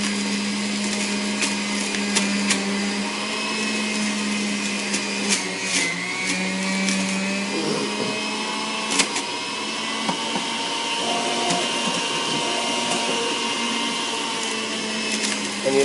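An electric juicer grinds apples a few at a time, a steady loud motor whine with rough chopping texture running continuously throughout.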